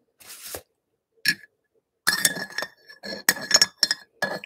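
Spoon stirring tea in a glass, bright clinking taps against the glass in a brief opening burst, then a rapid run of ringing clinks, close and clear with no voices.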